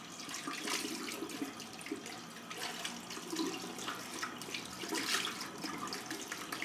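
Tap water runs steadily into a sink while a shaving brush is rinsed under it, a soft continuous splashing with no voices heard.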